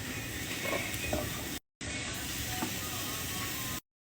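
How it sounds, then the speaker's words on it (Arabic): Mushrooms dry-roast in a pan with no oil, making a soft, continuous sizzle with light stirring clicks. The sound cuts out in two short breaks. "شوي الفطر، ما نحط زيت ولا شيء، شوي عادي."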